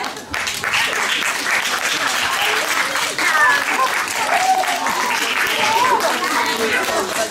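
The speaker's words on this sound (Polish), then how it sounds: "Po półgodzinnym występie zebrały gromkie brawa." An audience gives loud, sustained applause after a half-hour performance at a Kaufland market, dense clapping continuing throughout with a few cheers and voices mixed in.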